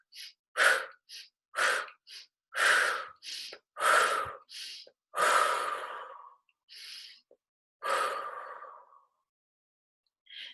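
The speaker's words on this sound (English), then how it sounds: "So inhaling and then exhaling, inhaling and then exhaling." Rhythmic breathing exercise with repeated sharp inhales and exhales in quick bursts, then longer sighing breaths, close and fairly loud with no talking.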